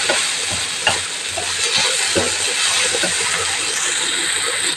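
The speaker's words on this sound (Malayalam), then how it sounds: "ചെമ്മീനും കൂടെ ഇതിൻ്റെ കൂട്ടിട്ട് ഒന്നിച്ചിട്ടിങ്ങനെ ഇളക്കണം" Prawns frying in oil for prawn roast, a steady loud sizzle with occasional soft scrapes of stirring throughout, close up and continuous.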